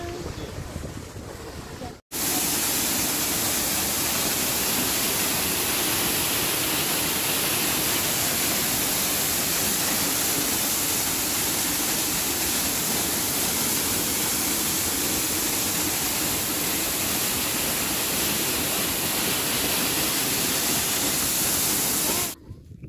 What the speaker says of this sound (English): Maporomoko yanaitwa Mwakilema. Yale maji yanatoka pale pale.